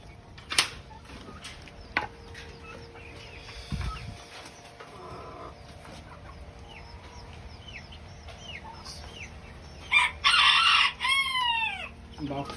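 A buff-colored fancy chicken rooster in a bird house clucks in scattered bursts, then lets out a loud, close crow near the end, with other fowl faintly around.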